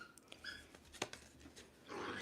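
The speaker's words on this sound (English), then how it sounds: "my dogs have been going at it ever since I started shuffling." Dogs whimper and give short whining yelps at close range, a few brief cries followed by a longer whine near the end, over a quiet indoor background.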